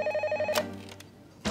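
A telephone rings with a steady electronic warble, cuts off partway through, and a brief clunk follows, like a handset being picked up, in a quiet indoor space.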